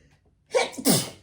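A single close sneeze, a sharp sudden burst with a brief intake leading into a loud explosive release, otherwise quiet around it.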